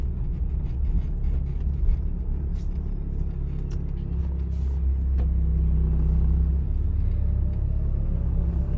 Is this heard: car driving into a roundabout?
yes